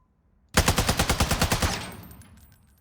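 An RPK machine gun in Warzone 2 fires on a practice range: one loud, sustained automatic burst of about a dozen rapid, evenly spaced shots, then a fading echo tail. No one talks.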